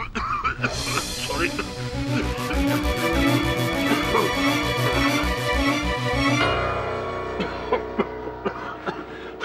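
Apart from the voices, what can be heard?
coughing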